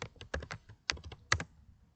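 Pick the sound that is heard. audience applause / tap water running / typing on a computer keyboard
typing on a computer keyboard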